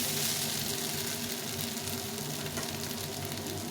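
Hot water poured into potato curry frying in a pan, setting off a loud, steady sizzle and bubbling hiss that continues without a break, with no voices.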